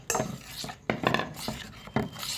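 Rice batter with hot jaggery syrup is stirred in a pot for kalathappam. A spoon clinks and scrapes against the pot in a few distinct strokes, close and clear, with no talk.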